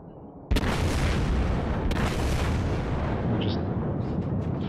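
American battleship main guns firing in the game World of Warships, a loud booming blast followed by a second shot, with a sustained roaring rumble of gunfire and ambient battle noise throughout.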